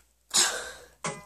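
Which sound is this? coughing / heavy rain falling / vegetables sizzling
coughing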